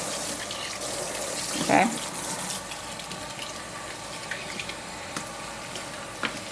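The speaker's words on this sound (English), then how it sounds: "we're just going to rinse really, really well the conditioner out." Running tap water rinses diluted conditioner out of braided hair, a steady close splashing flow under a brief spoken word.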